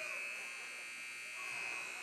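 A basketball game buzzer sounds at the end of the half in a Macomb Bombers versus IVC game: one steady, sustained electronic tone held throughout, fairly faint, under voices and arena noise.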